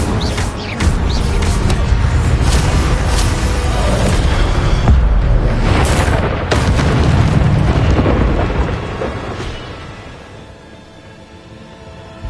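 Incendio fire spell in Hogwarts Legacy, bursting into a loud, sustained roaring whoosh of flame with crackling rumbles and several booming swells that slowly die away, no voices over it.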